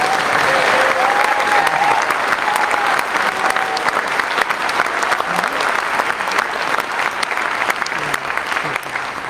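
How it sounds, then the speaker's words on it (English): Dense, sustained applause from an audience at a community meeting about the Flat Fire, steady and loud throughout with no speech over it. "this would be a good time if you want to clap again to show that support"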